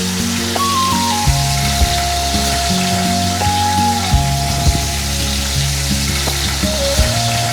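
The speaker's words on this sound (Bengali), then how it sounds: "আজকে আমি ভাজি করব, মিডিয়াম আঁচে আমি ভাজি করব" Silver pomfret fish frying in oil in a pan over medium heat gives a steady sizzle, with a sustained tone and low rumble running beneath it.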